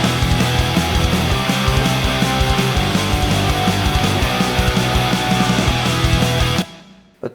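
A full punk rock mix made with Logic plugins plays dense, loud distorted guitars over driving drums with busy cymbals, a steady wall of sound that stops abruptly near the end with a brief final hit.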